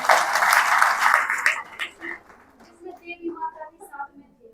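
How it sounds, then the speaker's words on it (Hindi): An audience at a devotional gathering bursts into loud, dense clapping that lasts about a second and a half, then tapers off into scattered murmurs and children's voices. "चलो 8 की तो ताली बजा दो।"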